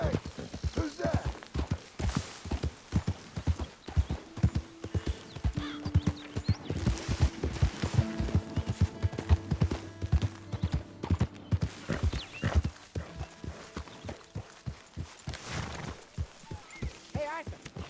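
Horse hooves clip-clop in a fast, rhythmic gallop in the Red Dead Redemption 2 video game, loud and near, with a brief whinny and characters talking over the hoofbeats.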